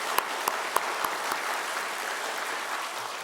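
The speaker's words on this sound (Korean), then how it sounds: "다시 한 번은 큰 박수로 격려해 주시기" A church congregation at an Easter Sunday service applauds a choir's cantata, a steady rush of clapping with a few sharp, louder claps near the start, holding even to the end.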